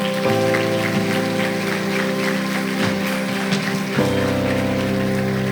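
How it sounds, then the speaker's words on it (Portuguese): A church congregation applauds in a steady, dense patter while sustained organ or keyboard chords play underneath. Clapping stays fairly loud throughout, and the chords shift partway through. "Pode aplaudir Jesus."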